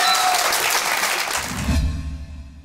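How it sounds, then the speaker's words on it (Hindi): Studio audience applause on a Pakistani comedy TV show, a loud burst of clapping that cuts off abruptly midway as a low musical sting or background tone takes over. "तालियां बजाओ।"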